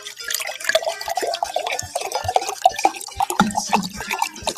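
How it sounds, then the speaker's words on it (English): Water is poured into a glass in a series of uneven splashes and drips. It sounds close and fairly loud, with a voice murmuring faintly at moments. "Let's pour my water."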